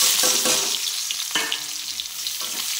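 Chopped onions hit hot oil in a pan where rita and tengra fish were just fried, giving a steady loud sizzle with small crackles and a couple of sharper pops, with no voices.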